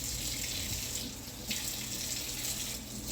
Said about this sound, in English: now I'm going to run this under some hot water